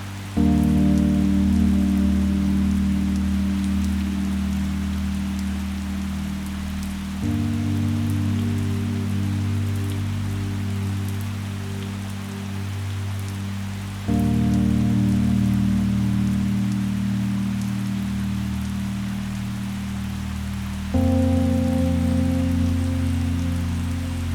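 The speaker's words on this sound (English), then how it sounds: "it's still raining" Steady rain falls across misty Rannoch Moor in Scotland, a dense continuous hiss lasting throughout, layered under a sustained low droning tone that shifts every few seconds.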